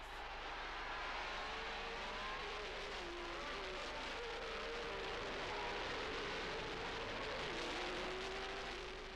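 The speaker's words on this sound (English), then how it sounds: "the pack was unleashed towards the first chicane" Formula 1 race cars from 1979 pulling away at the start at Monza, a dense continuous engine roar with rising and falling engine pitch from many cars.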